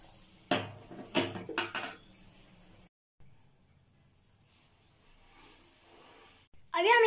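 Sandwich being flipped in a buttered pan on a gas stove over low flame: a few sharp metallic clanks of a spatula against the pan, then quiet low sizzling, with a brief scrape at the end.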